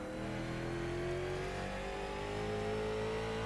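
Late model stock car engine lapping the Bullring, a 3/8 mile short track near Las Vegas, in iRacing, a steady mid-pitched drone with revs slowly climbing under constant throttle.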